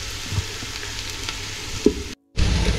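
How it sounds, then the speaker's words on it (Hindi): Chopped onions fry in hot oil in a pot for chicken feet yakhni pulao, giving a loud, continuous close sizzle with a brief stir and a short dropout near the end. "प्याज हमारा फ्राई हो गया।"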